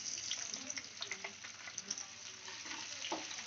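Onions and chillies fry in oil in a pan, giving a steady close sizzle and crackle with small bursts of spitting, alone without any talk.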